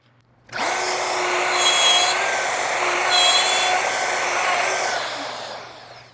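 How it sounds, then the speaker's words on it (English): A router guided by a jig cuts a 3/8 inch mortise in wood, starting abruptly with a loud, steady high-pitched whine that swells slightly as it cuts, then tapers off near the end. "I'm going to get my router joint or router jig back out and cut a 3/8 inch mortise basically from here to the end down to the tenon"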